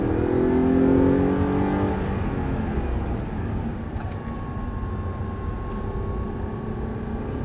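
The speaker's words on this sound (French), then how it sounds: "Allez, on élargit, on peut réaccélérer." An Audi R8 with a V8 accelerates on a track, the engine roaring loud and close, its pitch sliding early on before settling into a steady, strong drone; no talking.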